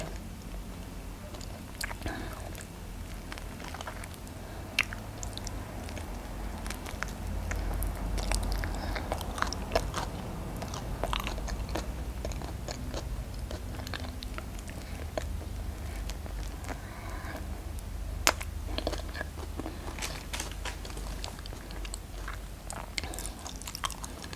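Someone eats small Puangmanee durian close to the microphone, giving steady soft biting, wet chewing and smacking sounds, with occasional crisp clicks over a constant low background hum.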